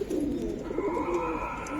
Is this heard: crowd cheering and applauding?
no